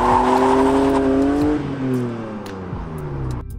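A BMW E36 M3 with 221k miles revs strongly at close range, its engine note climbing and then dropping as the revs fall back toward idle, with a brief whir at the end.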